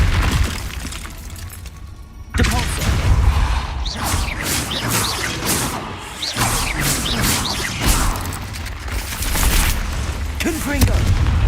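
Confringo blasting spells in Hogwarts Legacy, a series of sharp booming impacts and crackling bursts in quick succession after a quiet start, loud and close, with shouted incantations between them.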